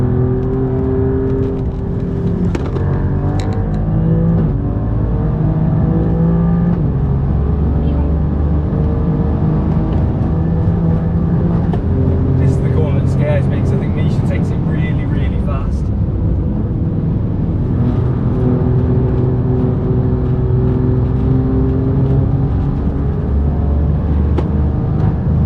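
An Alfa Romeo Giulia Quadrifoglio engine in a racing video game at the Nurburgring drones and revs steadily throughout, rising and falling with gear changes, with someone talking over it.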